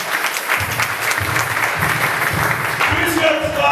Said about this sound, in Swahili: Est-ce qu'on peut acclamer très bien?